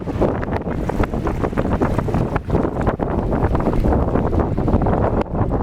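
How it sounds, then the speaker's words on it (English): Strong wind roaring steadily and buffeting loudly against the microphone, with no voices, constant throughout. "It was so windy. Just listen to this."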